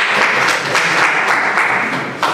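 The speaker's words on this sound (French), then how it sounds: "Vous aurez dû applaudir pour 26 pays africains présents." Applause from the audience at a press conference for the Africa Web Festival in Côte d'Ivoire, a brief burst of many hands clapping at once, fairly loud and even throughout.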